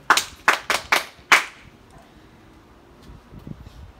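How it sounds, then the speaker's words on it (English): A classroom of students claps for a classmate after her answer in a lesson on sandy soil, five sharp bursts of applause over about a second and a half, then fading into quiet room noise. "Clap for her."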